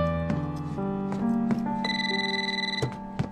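A telephone rings with a melodic electronic ringtone: a sequence of bright, sustained tones that change pitch in steps and repeat for a few seconds, with no talking.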